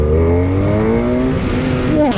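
A 2017 BMW F800R twin-cylinder motorcycle engine revs hard and close, its rising harmonic whine climbing steadily through the gears over a steady roar, with a brief dip and shift near the end.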